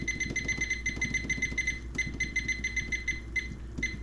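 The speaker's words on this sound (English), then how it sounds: "let's go ahead and set the timer" A kitchen timer's rapid electronic beeping repeats in quick steady bursts with brief gaps, over a low background rumble, loud and close.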